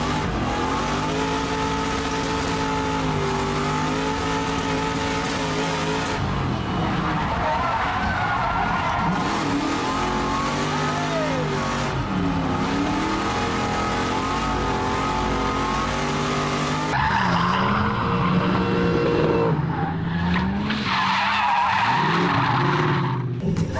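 A car engine revs hard and tyres skid on a racing track at Lurcy-Lévis, the loud engine note rising and falling continuously, with a sharper, rougher burst of revving and screeching toward the end and voices in the background.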